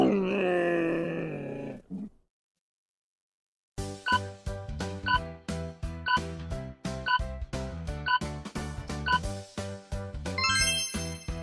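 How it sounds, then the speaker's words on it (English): A camel gives a deep, harmonic groaning grunt for about two seconds, followed by a pause and then a rhythmic, tinkling jingle of music with steady beats. "A camel."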